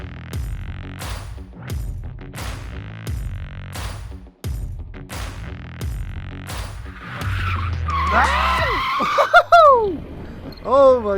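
A stock Mazda MX-5 Miata NA drifts with its rear end sliding, rhythmic engine pulses and repeated bursts of loud tire squeal, ending in rising, wavering screeches.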